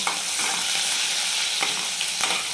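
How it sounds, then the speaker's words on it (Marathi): Chopped onion frying in a pan for a dry chawli (long bean) vegetable dish, with a steady broadband sizzle and a few soft stirring scrapes, close and continuous with no talking. "एक कांदा कट करून घेतलेला आहे तो टाकू आणि छान ह्याला तळून घ्यायचं"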